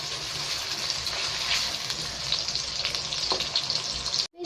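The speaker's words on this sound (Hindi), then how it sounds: "मैं एक प्याज जो मैंने बारीक बारीक काट लिया था ऐड कर रही हूँ।" Finely chopped onion sizzles in a pan for an Afghani besan chicken dish, giving a steady, close frying hiss with no talk over it; the sound cuts off abruptly near the end.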